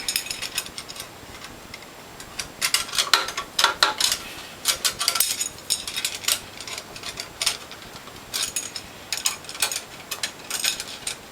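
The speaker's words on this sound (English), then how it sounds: "usually you need a breaker bar to break them" A breaker bar works loose the tight post screws on a Norwalk juicer, giving rapid ratcheting clicks in repeated bursts with short pauses between them, close and fairly loud.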